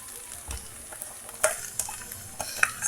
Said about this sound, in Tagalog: kudkulin na natin pati yung mga ano nakadikit sa kaldero.